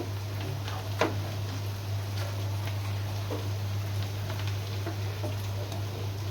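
Spicy shrimp bhuna frying in a pan gives a steady close sizzle, broken by faint scraping clicks as it is stirred, over a low constant hum.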